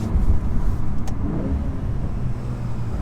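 A Volkswagen Golf R Mk 8.5 engine drones steadily from inside the cabin while driving, a low muffled rumble with no talking.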